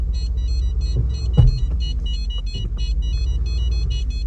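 A Mercedes-Benz C63 AMG with frame damage idles with a low, steady rumble while reversing. A repeating electronic beeping chime runs throughout, and a thud sounds near the middle.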